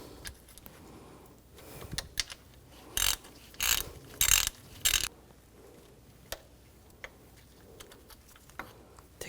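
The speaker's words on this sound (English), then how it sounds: "This lower one, use a 12mm socket. Loosen up the bolt." A 12mm socket ratchet loosens a lower bolt during timing belt and water pump work on a 2004–2009 Audi A4, giving four loud ratcheting bursts in the middle with quieter clicks and handling noises around them, no talking.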